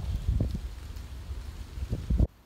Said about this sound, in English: Windy night here in New Hampshire.